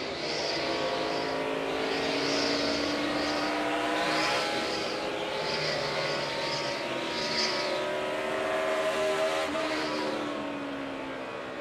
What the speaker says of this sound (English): Jimmy Johnson has a fast car when he has the whole racetrack to work with